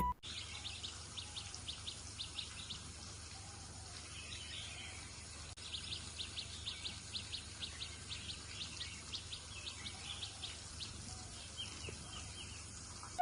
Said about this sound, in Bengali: পাখির ডাক পাতার মর্মধ্বনি আর দূরের বাতাস এই পথকে করে তুলেছে আরো